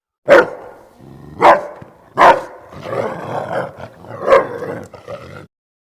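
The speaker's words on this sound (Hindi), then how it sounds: "वह जोर से भौंकने लगा।" A dog barks loudly and sharply several times at irregular intervals, with rough growly sounds between the barks, close by and with no other sound.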